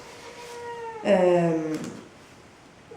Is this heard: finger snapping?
no